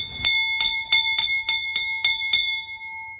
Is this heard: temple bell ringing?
yes